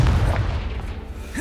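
Confringo fire-blast spell in Hogwarts Legacy, a deep booming explosion with a low rumble running steadily through the whole short stretch, loud and close with game ambience and no speech.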